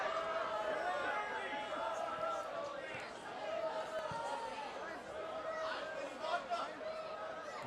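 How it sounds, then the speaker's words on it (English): A stadium crowd at a professional soccer match between the Rochester Rhinos and Harrisburg City Islanders grumbles and murmurs steadily in the background under continuous commentary, with a restless, disapproving swell of noise. "Crowd doesn't like it."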